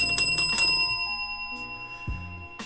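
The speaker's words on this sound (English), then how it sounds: "I want to hit the bell." A bell sound effect rings out with several quick bright metallic dings that hang and decay, followed by a lower sliding tone near the end.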